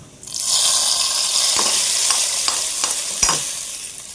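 Coconut slices frying in ghee for a beef roast give a steady, loud sizzle, with a few scraping stirs of a spoon in the pan, close up and with no talking.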